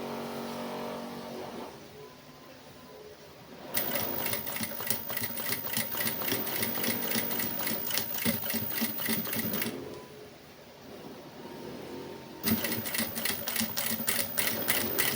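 A domestic sewing machine stitches through quilt batting and layers of fabric in two loud, rapid bursts of clattering needle strokes, separated by a quieter pause.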